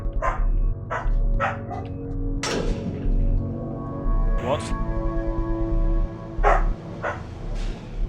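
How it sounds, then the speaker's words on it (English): Dogs in a video game bark in short, sharp bursts, several yips and barks spaced irregularly over a low steady background hum, with a voice talking in between. "The dogs might bark occasionally, just ignore that."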